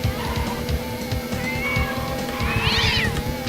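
A house cat meows several times, one call rising into a drawn-out complaining wail, heard over a steady droning hum from a Hot Wheels racing video game playing in the room.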